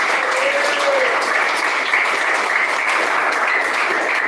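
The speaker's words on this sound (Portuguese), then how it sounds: "Quem bate mais palmas, dá glória a Deus." Loud, even clapping from a church congregation during worship, a continuous wash of many hands lasting the whole stretch without a break.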